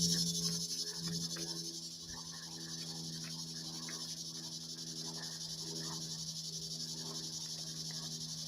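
A steady, dense drone of cicadas in sycamore trees fills the air, a continuous high buzzing chorus with a low hum underneath, unbroken throughout.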